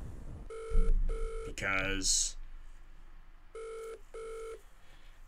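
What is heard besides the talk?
telephone dialing and ringing for phone-a-friend lifeline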